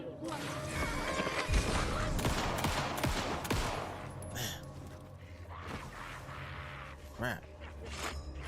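Guns fire in the Alan Wake 2 video game in a loud, dense stretch of rapid shots and impacts, with sharp cracks scattered through, mixed with game effects, and a voice talks partway through.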